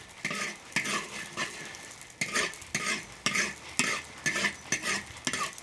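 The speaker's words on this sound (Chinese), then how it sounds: "烧点油啊，炒个刀口辣椒。" Dried chilies stir-fried in oil in a wok for a spicy Sichuan blood stew, a steady sizzle broken by rhythmic scraping strokes of a spatula, about a dozen close, loud pushes with no voices.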